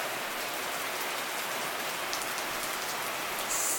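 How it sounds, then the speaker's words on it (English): Constant rain falls on surfaces at an off-grid home build site, a dense, even hiss of countless drops with no talk over it. "it's just been raining constantly"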